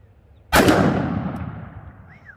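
A single loud, close gunshot from a Smith & Wesson Model 69 2.75-inch .44 Magnum revolver firing a Hornady XTP bullet into ballistics gel outdoors, a sharp blast followed by a long ringing decay.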